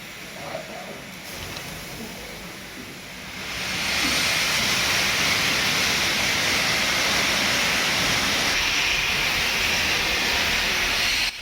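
A steam locomotive at the Great Central Railway's Winter Steam Gala vents steam; a steady hiss swells to a loud, broad continuous rush and holds, with no voices.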